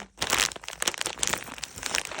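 Plastic bags crinkle and rustle continuously while someone digs through them looking for a small construction-set piece, close and fairly loud with dense crackly bursts and no talking.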